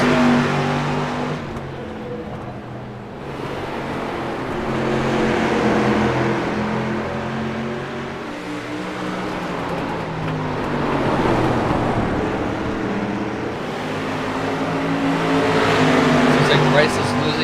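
Street stock race cars in the iRacing video game, at Southern National, roar steadily with engines rising and falling as they lap, under continuous race commentary.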